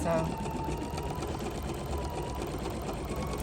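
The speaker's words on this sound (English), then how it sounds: "We're quilting in the hoop now" An embroidery machine stitches a quilting pattern in the hoop, giving a steady, close mechanical whir that runs without a break. A faint voice sits underneath it.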